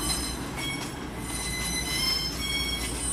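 Class 222 unit 222013 at Derby, its wheels squealing: a continuous high-pitched metallic screech over low rumbling rail noise, moderately loud and steady, with no talking.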